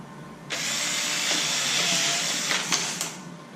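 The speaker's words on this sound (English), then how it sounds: "So I'm just going to go on ahead and pre-drill the rest of them and put the screws in." A power drill pre-drills screw holes while a stone crab trap is being built, whining loudly and steadily for about two and a half seconds before cutting off with a couple of brief bursts.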